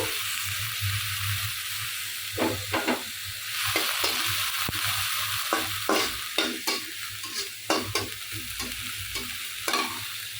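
Dried chillies and dried fish fry in a pan with a steady, close sizzle, broken by repeated scraping and stirring strokes of a spatula against the metal. There is no talking.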